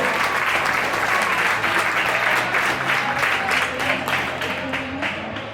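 A crowd in a sports hall applauds player Ana Lamas at a women's futbolín all-star match, loud dense clapping that holds steady, then tapers off toward the end, with faint voices underneath.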